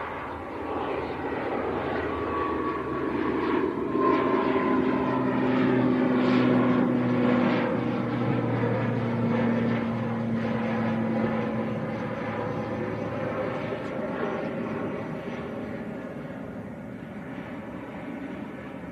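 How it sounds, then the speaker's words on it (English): An Aer Lingus ATR turboprop climbs away on takeoff at Manchester Airport, its steady propeller drone with tonal engine hum swelling loud and then slowly receding over about nineteen seconds, with no talking. "This is Aer Lingus ATR getting airborne."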